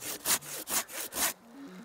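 Hand saw cutting through wood for a bed frame, four rhythmic rasping strokes back and forth, close and clear, then quiet.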